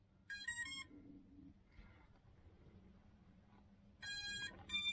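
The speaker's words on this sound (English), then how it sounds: "as you can see, after it stops beeping," A drone smoke stopper gives rapid electronic beeps after a LiPo battery is plugged in, with a short loud burst at the start, a quiet stretch, then two more bursts near the end.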